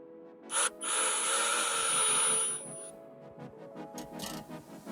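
Tuning peg being turned by a drill to tighten a string while restringing a five-string bass, a steady whirring burst of about two seconds with a high whine, followed by quieter clicking and plucked string tones.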